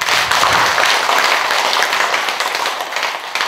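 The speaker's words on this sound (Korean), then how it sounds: "자, 박수 한번 치십시오." An audience at a Buddhist lecture on the Lotus Sutra breaks into applause, a dense, close burst of clapping that stays strong and then begins to thin toward the end.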